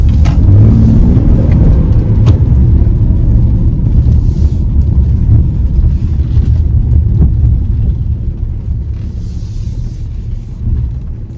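A heavy 2023 Chevy Traverse RS SUV drives along, its road and engine rumble loud and steady from start to finish, easing slightly toward the end, with no voices.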